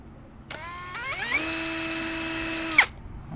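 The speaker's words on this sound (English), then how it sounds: "we just want to drill the hole right in the middle of the plastic there" A power drill bores through plastic trim, spinning up with a rising whine, then holding a steady high-pitched buzz for a couple of seconds before stopping abruptly.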